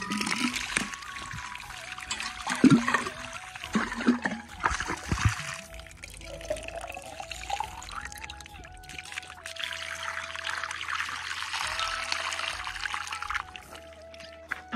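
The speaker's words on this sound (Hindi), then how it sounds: "तो इस बोतल पे लेकर आती हूँ पानी।" Water is poured into a bottle, gurgling and trickling with a rising pitch as it fills, plus a few splashy bursts and quieter stretches between pours.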